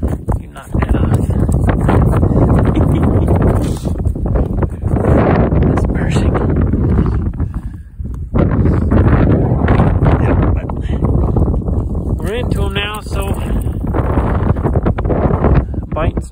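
Strong wind buffets the microphone on a frozen lake during ice fishing, a loud continuous roar and rumble with gusts, mixed with people talking throughout.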